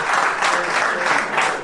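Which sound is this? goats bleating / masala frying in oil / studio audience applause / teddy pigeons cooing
studio audience applause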